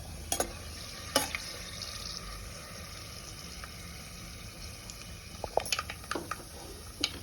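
Chana dal, mustard seeds and urad dal tempering in hot oil for a masala brinjal curry: a low, quiet frying hiss with occasional clinks and scrapes of stirring, growing busier near the end.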